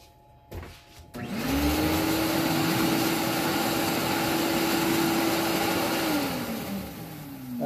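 A Onefinity CNC router cutting 3/8-inch thick acrylic spins up to a loud, steady high whine after a few quiet clicks, holds it for several seconds, then dips slightly in pitch near the end, with vacuum-like roaring beneath.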